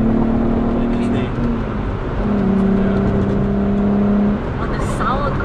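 A Volkswagen Corrado engine with an open port idles and revs loudly nearby, its pitch holding steady then dropping, with a voice talking over it.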